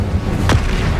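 A fire spell cast in Hogwarts Legacy gameplay: a single sharp whooshing burst rises briefly at the midpoint over a constant low rumble of combat ambience, with no talking.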